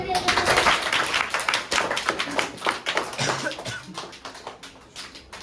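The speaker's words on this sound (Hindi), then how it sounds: "जनाब शरीफ सर, ताली बजाओ सर।" An audience at a school gathering claps for a guest speaker, a close, lively patter of many hands that peaks early and gradually thins out over about five seconds, with voices mixed underneath.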